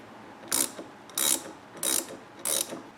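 Four quick ratchet bursts, evenly spaced, ring out close and crisp as a 21mm nut is tightened on an Audi B8 front control arm during a workshop repair.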